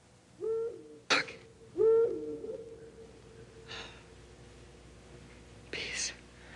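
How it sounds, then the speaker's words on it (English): An owl gives two short hoots close by, followed by quieter breathy whispering sounds and a few soft rustles. "This was the owl that shrieked."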